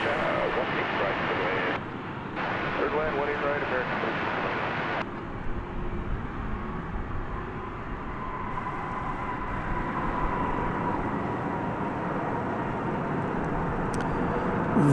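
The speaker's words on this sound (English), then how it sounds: "A Dreamliner is incoming." A Boeing 787 Dreamliner, American Flight 8 from Honolulu, arriving at night, heard as a steady distant jet roar building and rumbling under ongoing commentary.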